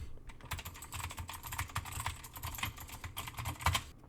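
Steady clicky typing on a FIFINE K690 blue-switch mechanical keyboard placed behind the microphone, slightly quieter and more distant, keys clacking in a continuous flurry.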